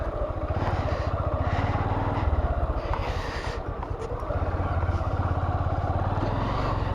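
A motorbike rides along a bumpy, uneven village road, its engine putting out a steady, loud rumble close by, with rattles and jolts riding on top of it throughout.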